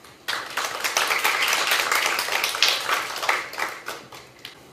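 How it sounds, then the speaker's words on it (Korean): An audience at a Korean history lecture claps to welcome a professor to the stage, a loose, lively round of individual claps that starts abruptly, swells, then thins out and fades near the end. "여러분의 뜨거운 박수로 도리우미 유타카 교수님을 강단으로 모시겠습니다"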